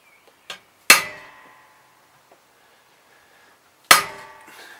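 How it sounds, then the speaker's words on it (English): A hammer strikes a 13mm socket onto an inlet manifold pipe on a classic SPi Mini. Two sharp, ringing metallic clangs sound close up, preceded by a lighter tap, with quiet gaps between them. "I'm just going to hammer it home."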